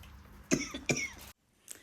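Two short, dry coughs in quick succession, close and fairly quiet, followed by a brief pause and a faint third sound.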